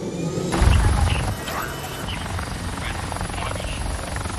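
A helicopter is heard close by, its rotor and engine noise swelling loudly early on and then settling into a steady, continuous drone, with faint background voices.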